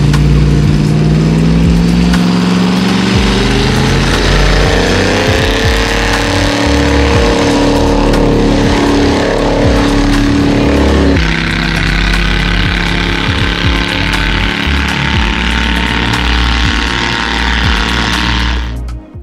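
Airboat engine running at Gator's Grill near Three Forks Conservation Area in Florida, a loud, steady droning roar with a rising pitch that holds close and continuous, shifting tone partway through before cutting off at the end.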